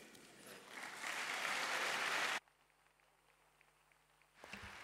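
Applause at a World Scouting conference session, a swelling crowd clapping that grows louder for about two seconds, then cuts off abruptly into quiet room tone before a faint return of sound.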